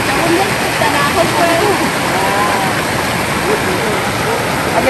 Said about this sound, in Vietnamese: đây là Suối Nậm Mu